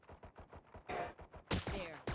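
Gunfire in a Valorant match: a rapid run of close weapon shots in quick rhythm, followed by a couple of louder, brighter bursts near the end, with no voices.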